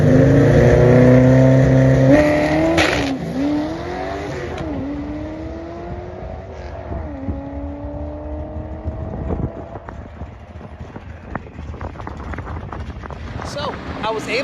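A drag racing car with a 6R80 transmission accelerates hard down the strip, its engine note climbing steadily over several seconds, loud at first and then easing into a steady roar with wind noise buffeting the microphone.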